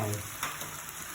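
Eggplant stir-frying in a pan for Thai chicken curry gives a brief, close sizzle with a light scrape of stirring.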